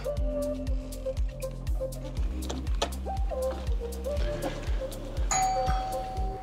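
A doorbell rung at a farmhouse door gives repeated ding-dong chimes with a ringing tone, sounding close and fairly loud, followed by a brief further chime.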